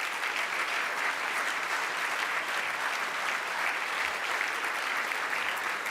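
Sustained audience applause fills a hall at the close of a coaching panel event, steady and dense clapping throughout with no speech over it.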